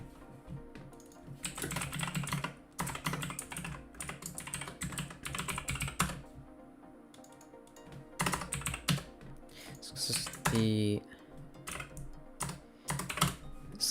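Computer keyboard typed in rapid bursts close to a microphone, clattering keystrokes broken by short pauses, alone without talk.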